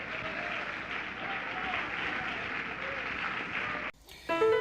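A church congregation claps steadily in applause for several seconds before it stops abruptly, after which a brief sound follows.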